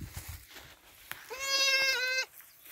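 A newborn Dorper ewe lamb gives one clear, sustained bleat of under a second, close and fairly loud, following a few quieter rustles.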